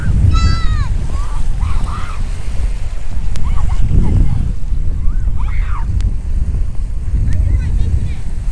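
Sea waves wash in at Tor Abbey Sands on the Torquay seafront as the tide turns, a close, steady surf and wind rush with gentle swells, while seagull-like cries and faint voices sound over it.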